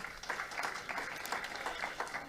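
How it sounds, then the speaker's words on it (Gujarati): An audience at a Ram Katha religious gathering applauds, a soft, steady wash of many hands clapping heard from a distance, with a voice faintly present underneath. "બધા પરિવાર ભાઈઓને જોરદાર તાળીઓથી વધાવશું"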